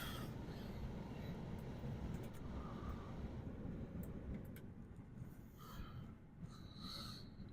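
A 2005 Mercury Grand Marquis GS driving on a January day, giving a steady, close low rumble of engine and road noise with faint higher hiss throughout and no talking.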